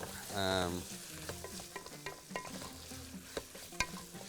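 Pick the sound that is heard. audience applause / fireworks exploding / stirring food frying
stirring food frying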